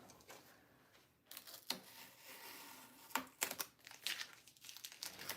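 Strips of painter's tape are peeled off painted furniture, giving soft crinkling and tearing sounds with a few sharper rips, close and fairly quiet.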